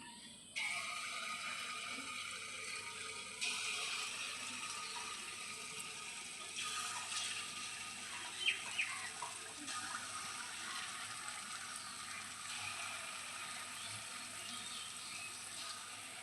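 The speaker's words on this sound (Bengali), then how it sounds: "তেলটা ভালো করে গরম হয়ে গেছে এবারে বড়াগুলো দিয়ে দেব" Palm fritters (tal bara) frying in hot oil, a steady faint hiss and crackle running continuously at low level with no one talking.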